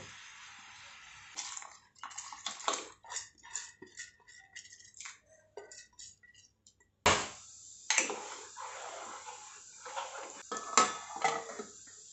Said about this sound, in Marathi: आपण जी ज्वारी धुवून घेतली ना ती याच्यात टाकून घेऊ